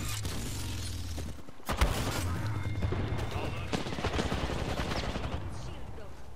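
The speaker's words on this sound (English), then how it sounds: "Ah, I'm getting shot by two." Gunfire in the video game Apex Legends, rapid bursts of shots and impacts sounding close and loud over a busy game mix, with a player's voice talking over it.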